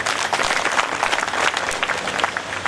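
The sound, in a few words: audience applause for Vairagi Baba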